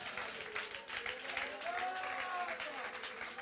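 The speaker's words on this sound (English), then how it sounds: "Clap your hands." A church congregation claps hands during worship, a busy, continuous clapping texture mixed with voices and faint musical tones, recorded at low level.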